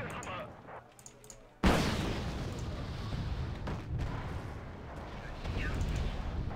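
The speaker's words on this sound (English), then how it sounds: "It looks like we've already got tanks firing." Tank cannon fire and battle rumble in the war strategy game Wargame: Red Dragon, starting with a sudden loud boom and going on as dense, continuous combat noise, with voices in the background.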